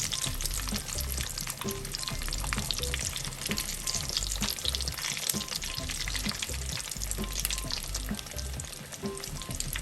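Mushroom cutlets of potato and mushroom sizzle steadily in a hot oiled pan after being flipped, a dense continuous crackle with soft stirring scrapes, close and alone without any voice.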